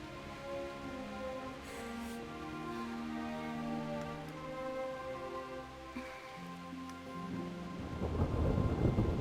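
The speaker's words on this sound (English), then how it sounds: "Not afraid of thunderstorms, are you?" A video game thunderstorm in Kingdom Come: Deliverance brings steady rain under sustained tonal music, and a deep rumble of thunder swells loudly near the end.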